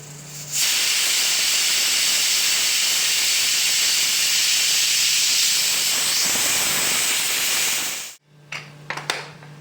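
A pressure cooker on a stove cooking mango dal lets out a loud, sustained whistle and steam hiss for about eight seconds, then cuts off abruptly, followed by a few small clicks and rattles.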